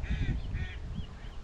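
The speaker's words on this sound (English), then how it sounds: "Look at all the birds there on the water and over there on the branch." Birds calling near water and from a branch at Stilbaai, South Africa: a few harsh, crow-like caws in quick succession over low rumbling background noise.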